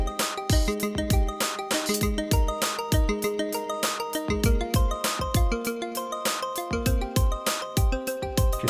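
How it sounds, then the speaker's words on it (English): Korg M1 bell patch on a Nautilus workstation runs through a latched arpeggiator over a drum track, a chiming, pulsing synth pattern with steady kick and percussion, loud and continuous with no speech. "we can go into this bell sound, we can turn on the arpeggiator, we can latch it, we can add a drum track"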